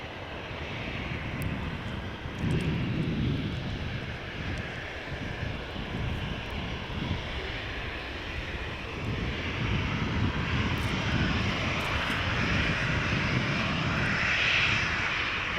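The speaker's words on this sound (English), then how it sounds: "this one, 737 is accelerating off the runway, down the runway" A Boeing 737 jet accelerates down a runway at Schiphol, a broad, steady roar heard from a distance that swells gradually louder through the second half.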